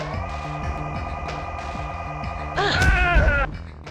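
A rising psychic power charge-up effect from the PS1 game Galerians, a bright swelling tonal burst that surges briefly over a steady humming synth background.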